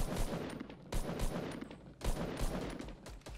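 Gunfire in the Fortnite video game: rapid bursts of shots in clusters, a quick volley, a pause, then more bursts, moderately loud and with no talk over them.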